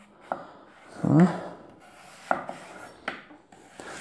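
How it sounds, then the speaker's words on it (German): A knife slices apples into half-centimetre rings on a board, a few separate scraping cuts and light taps spaced out, close and clear, with a brief spoken word. "Dann schneide ich mir die Äpfel auch gleich in Scheiben."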